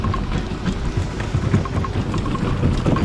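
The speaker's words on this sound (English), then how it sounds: "Sorry about the fountain noise." A water fountain splashing steadily near a rocky spot where a kayak cart is moved, a loud continuous broadband wash with no pauses and no talk.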